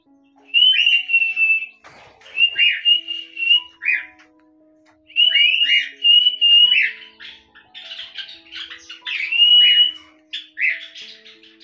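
Pet birds squawk and whistle from rooftop cages in loud, shrill repeated bursts with short pauses between calls, close by, with no talking.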